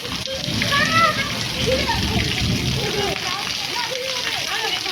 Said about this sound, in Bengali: বৃষ্টি হচ্ছে আমাদের এখানে একদম খুব জোর